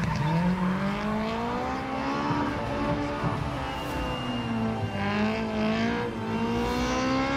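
Racing cars in a road race pass beneath a bridge, engines roaring and revving in a continuous loud drone with shifting pitch as they go by, no talking.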